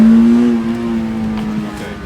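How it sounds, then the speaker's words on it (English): A project car's engine revs and drones loudly and steadily during a test drive. The car has no steering wheel fitted and is steered with a vise grip. Nobody speaks over it. "now I'm test driving the car"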